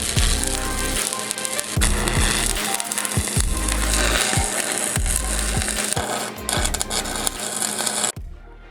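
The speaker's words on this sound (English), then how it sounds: "Let me weld this all up." A gap welder joins a homemade battery tray for a Polaris quad, making a loud, steady crackling buzz broken into stop-start bursts by low thumps, then cutting off abruptly near the end.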